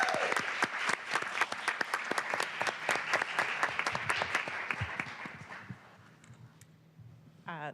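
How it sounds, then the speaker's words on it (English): Applause rings out in a city council chamber, a dense run of claps for about six seconds that thins and fades away, followed by a brief voice at the end. "And we can clap as well."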